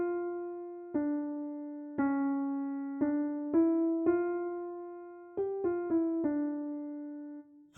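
The Art of Fugue theme by Bach plays alone as a slow single melodic line of about eleven clear plucked or struck notes, each decaying before the next, in a steady stately rhythm.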